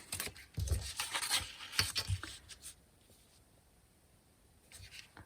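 Scissors cut through paper for handmade seed packets, close dry snipping and rustling in bursts over the first half, then near quiet with a brief rustle at the end.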